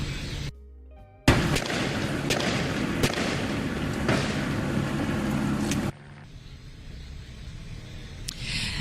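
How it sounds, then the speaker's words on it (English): Rapid crackling gunshots rattle in a dense, sustained burst, then cut off abruptly to quieter background noise with a couple of distant pops. "as you heard there, they say they were met with gunfire"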